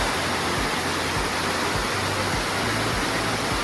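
Bearden Falls in the Blue Ridge Mountains near Ellijay, Georgia, cascades with a steady, dense rush of water, loud and continuous with no talk.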